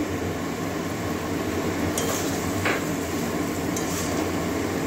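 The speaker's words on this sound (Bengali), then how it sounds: "ভালো করে কষিয়ে নেব।" Bottle gourd and shrimp are stir-fried in a pan over medium heat, making a steady hiss with a few scraping, clinking spoon strokes against the metal, close and continuous.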